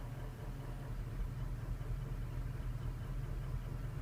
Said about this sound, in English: if we listen here to the engine